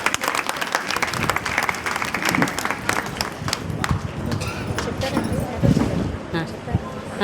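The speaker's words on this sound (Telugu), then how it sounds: "చప్పటి కొట్టండి" Audience applause at a public women's celebration meeting, a steady dense clapping from a crowd that carries on throughout, with voices talking over it.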